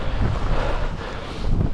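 Strong gale-force wind roars across a mountain summit in the Langdales, Lake District, buffeting the microphone with a loud, continuous low rumble and gusty surges, no voice heard.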